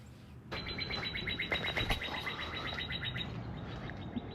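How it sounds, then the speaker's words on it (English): Birds chirp and sing in quick repeated phrases outdoors during a morning run, fairly close and steady, with light ambient background and no talking. "Birds are singing today"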